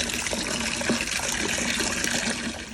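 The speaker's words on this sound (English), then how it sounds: "So first thing that I do is I turn the faucet on" A faucet runs steadily at the start of cleaning a fish tank, with bar soap nearby, giving off a constant broadband splash and hiss that never breaks.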